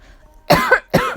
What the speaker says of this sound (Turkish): biraz öksürüyorum